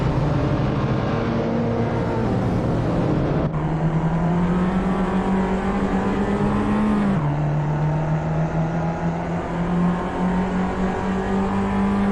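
Small racing cars in a sim race at Tsukuba Circuit drone continuously, engines holding high revs with a clear gear shift or pitch drop partway through, several cars layered close together, loud and with no talk.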